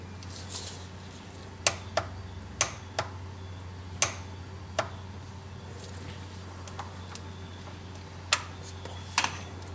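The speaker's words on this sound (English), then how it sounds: "The clicker style is the best for jobs like this. You can hear and feel the click without having to look at the torque wrench" Click-type torque wrench clicking at its set torque during a Jeep Liberty oil change, a series of sharp, quiet, irregularly spaced clicks over a low steady hum.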